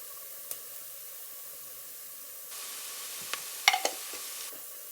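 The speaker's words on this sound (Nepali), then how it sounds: "एकैछिन भुट्ने यो चाहिँ, नभए मसला डढिहाल्छ।" Spices fry in a pan for chana dal, a faint, steady sizzle that grows a little louder midway, with a few light clicks of stirring against the pan and no talking.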